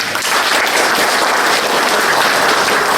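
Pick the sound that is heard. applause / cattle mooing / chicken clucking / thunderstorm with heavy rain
applause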